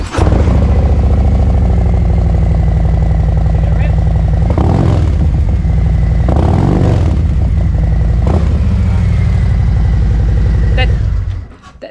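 A 2023 Harley-Davidson CVO Road Glide motorcycle engine runs loudly nearby, a deep throbbing idle with a few short revs, then cuts off at the end.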